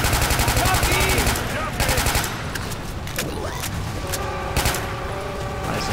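Rapid automatic gunfire rattles in Left 4 Dead 2 on the Cold Stream campaign, with dense bursts up front and sparser scattered shots after, loud and continuous throughout.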